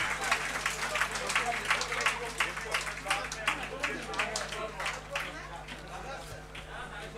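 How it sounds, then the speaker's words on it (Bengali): An audience claps loudly and steadily for several seconds in a hall during a Bangladesh Home Ministry public security division event, welcoming a senior secretary, with a voice faintly audible beneath the dense applause. "একটা জোরে করতালি আশা করছি ওনার জন্য।"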